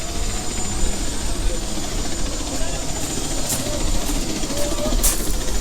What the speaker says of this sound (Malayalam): ഹെലികോപ്റ്റർ ഇവിടെ സ്റ്റാർട്ടായിട്ടുണ്ട്.